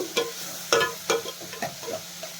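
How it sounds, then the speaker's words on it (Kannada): Chopped onion and tomato frying in a pan for buttermilk sambar, with a soft sizzle under a series of about eight distinct spatula scrapes and taps in an uneven rhythm, close and moderately quiet, no talking. "ಈಗ ನಾವು ಸಣ್ಣದಾಗಿ ಹೆಚ್ಚಿಟ್ಕೊಂಡಿದ್ದಂಥ ಟೊಮೆಟೊನ ಹಾಕ್ಕೊಳ್ತಾ ಇದ್ದೀನಿ ಇದೆಲ್ಲ ಸ್ವಲ್ಪ ಚೆನ್ನಾಗಿ ಫ್ರೈ ಆಗಬೇಕು"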